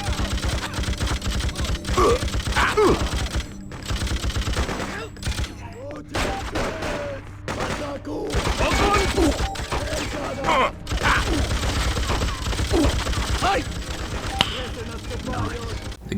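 Gunfire rattles in the video game Freedom Fighters, with dense bursts of automatic fire and shots layered over battle noise, and voices shouting in the mix throughout.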